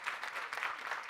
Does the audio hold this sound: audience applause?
yes